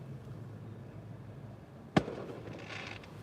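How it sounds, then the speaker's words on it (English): A single sharp firework bang goes off nearby, a sudden loud crack breaking a quiet indoor hum, followed by a faint lingering rumble. "I hope that's a firework."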